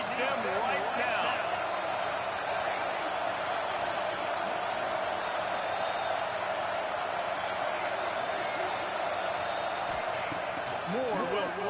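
Third-down crowd noise in a packed Oregon football stadium: a dense, unbroken roar that holds steady throughout, with a commentator talking over it.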